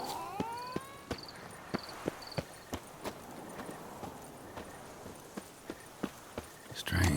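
Horse hooves in The Witcher 3: Blood and Wine, a steady series of clip-clop hoofbeats at walking pace, evenly spaced and fairly close, with faint high chirps early on and a brief louder rumble at the end.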